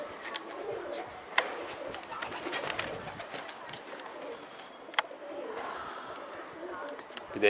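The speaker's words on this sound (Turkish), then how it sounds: "Göçmen kuşlar gidiyor yine." Pigeons coo and call outdoors in a Turkish pigeon-flying setting as the flock takes off, with scattered sharp wing claps and fluttering over steady background noise while someone talks throughout.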